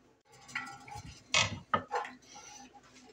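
A utensil stirs cheese and mascarpone through casarecce pasta in a cooking pot, giving a few close scraping clatters and knocks against the pot with quieter gaps between.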